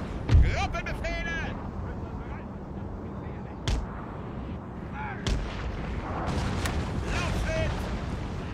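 Light horse artillery fires in a video game battle, with heavy booming shots at intervals over a constant rumbling din while voices shout commands.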